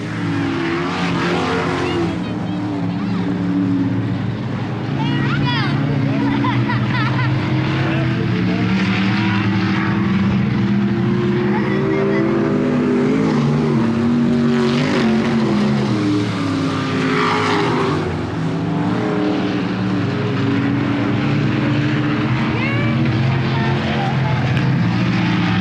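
Race cars roar around the oval at Thunderbird Raceway in single file through turn 4 and down the front straightaway, a loud, continuous engine drone with shifting pitch as cars pass, announcer talk faintly woven underneath.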